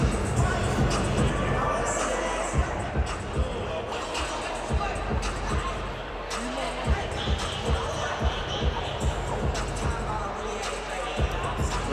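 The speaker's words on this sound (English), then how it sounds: "Crowd getting into it here in Detroit" Crowd noise at a heavyweight boxing match in Detroit, a steady roar of cheering and murmuring under a commentator's voice, with scattered sharp thuds of punches.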